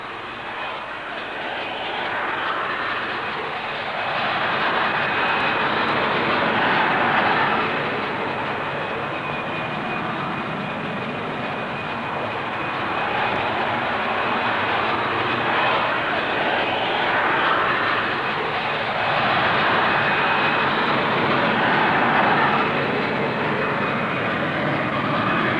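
A VTOL fighter jet with a Pegasus engine and rotatable thrust nozzles roars at a 1960s Farnborough air show flight demonstration, a loud sustained jet rumble with a steady high whine, swelling and easing slightly over about 25 seconds.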